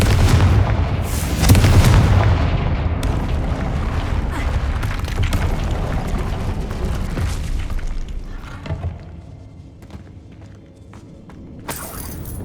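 Confringo fire spell explosions in the video game Hogwarts Legacy, loud booming blasts with crackling debris, strongest in the first few seconds and then settling into a rumbling, fading tail.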